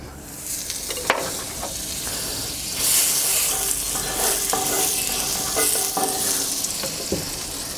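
Butter sizzling in a hot frying pan while a utensil stirs and scrapes, a steady loud hiss with occasional clinks, close and continuous, with no talking.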